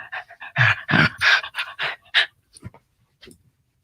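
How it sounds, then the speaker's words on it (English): A Havanese poodle mix dog pants close to the microphone in quick, rhythmic bursts that trail off into a few softer breaths, with no talking. "She's a Havanese poodle mix."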